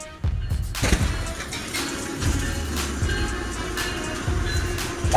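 A train collides with a car, with an abrupt loud onset followed by a sustained rumbling roar and rattling of railcars, some clattering impacts and steady heavy noise throughout.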